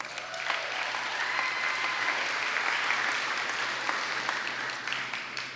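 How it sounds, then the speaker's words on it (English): Gala crowd at an awards ceremony applauds the winners, a steady, full wash of clapping that holds at even loudness for several seconds. "Let's give them another round of applause."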